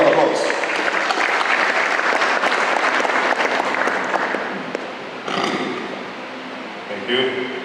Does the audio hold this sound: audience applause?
yes